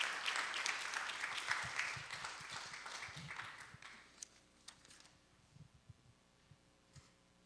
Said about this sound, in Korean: 뜨거운 박수로, 뜨거운 박수, 뜨거운 박수